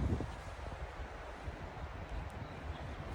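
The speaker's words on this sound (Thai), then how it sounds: "ลมแรงมากนะครับ" Strong wind at a beach buffeting the microphone with a constant roaring rush and low rumble, no voices.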